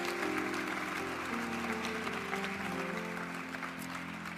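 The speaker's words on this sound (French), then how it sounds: "on peut encore les applaudir" Steady audience applause at a motorsport awards ceremony, honoring women racing drivers, heard fairly faint beneath a low sustained musical backdrop throughout.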